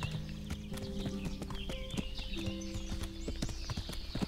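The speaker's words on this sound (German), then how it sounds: "Das ist ja das Pferd." Horse hooves clip-clop steadily at close range in Kingdom Come: Deliverance, with a brisk, even rhythm of footfalls on a hard path and no voices over them.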